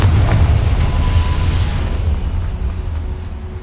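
A Confringo spell explosion in Hogwarts Legacy, a loud booming blast that rolls and slowly fades out over a few seconds, with no talking.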